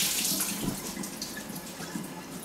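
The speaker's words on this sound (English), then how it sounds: "I've been taking my gnocchi, my dumplings, out, and I'm rinsing them with cold water" Cold tap water runs into a sink, rinsing freshly cooked Hungarian dumplings, a steady close splashing hiss with no talking.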